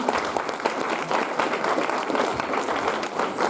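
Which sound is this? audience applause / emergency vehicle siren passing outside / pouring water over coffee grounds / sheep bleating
audience applause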